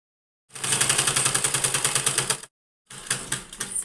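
A sewing machine runs a fast, steady stitching burst along a blouse strip, close and loud for about two seconds, then stops briefly before a shorter, rougher second run.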